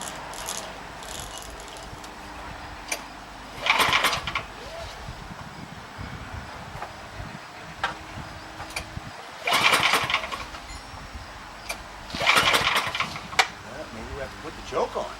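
Small racer kart engine being started, with cranking bursts around the fourth, tenth and twelfth seconds that do not catch into a steady run, separated by quieter rattling stretches.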